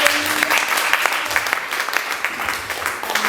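Congregation in a church clapping together during a Sunday service, a dense, lively burst of applause with uneven sharp claps throughout, close and fairly loud.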